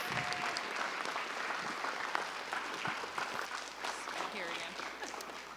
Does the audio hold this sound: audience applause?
yes